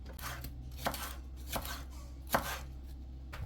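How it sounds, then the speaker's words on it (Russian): A knife chops zucchini and other vegetables on a board, three distinct thuds spaced apart over a steady low hum. "Овощи нарезаем, как вам нравится"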